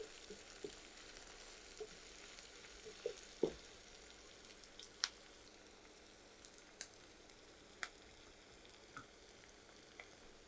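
Garlic fries in a pan with a faint, low sizzle, broken by occasional sharp pops and crackles scattered across the stretch.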